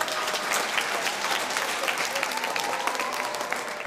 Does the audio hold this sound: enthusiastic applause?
yes